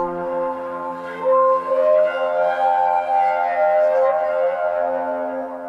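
Bowed strings of a yaybahar, the Turkish spring-and-drum instrument, ring through its springs into the drums, giving sustained tones that glide and bend with an eerie, echoing resonance.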